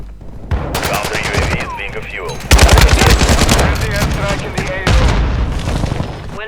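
An RPK light machine gun firing in Call of Duty Warzone 2, loud sustained bursts of rapid automatic fire close by, with in-game voices and speech mixed in.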